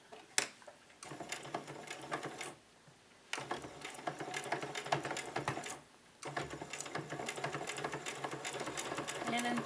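A home sewing machine stitches a fabric protective mask in quick mechanical bursts of rapid needle clatter, stopping briefly twice between runs and staying close and fairly loud, with no talking.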